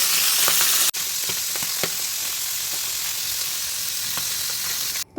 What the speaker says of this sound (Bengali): এভাবে তেলের মধ্যে দিয়ে সব মাছগুলোকে উলট পালট করে ভাজি করে নিলাম।